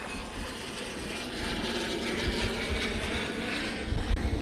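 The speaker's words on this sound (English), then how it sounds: "That plane is so loud every time it crosses over." A small private jet passes overhead, a broad steady roar that swells and stays loud throughout, heard outdoors with no talk.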